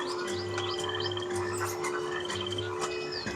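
An animatronic frog on a Disneyland ride gives repeated low croaks in an even rhythm, mixed with chirping bird sounds in the ride's background, moderately faint and without talk.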